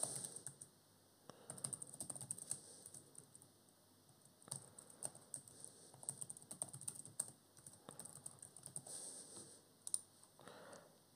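Credentials being typed on a computer keyboard, a quiet patter of irregular key clicks in short bursts with brief pauses, close and alone.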